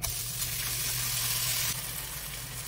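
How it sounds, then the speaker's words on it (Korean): Potatoes stir-fry in cooking oil in a pan, a dense, steady sizzle close by with a low hum underneath and a slight dip near the end, no speech. "감자 먼저 볶을게요."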